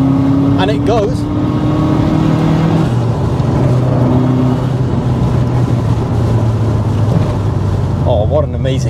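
Inside a 350 bhp Subaru Forester STI SG9 wagon, the engine drones and rises through a gear change over heavy road rumble, with someone speaking briefly at the start and end.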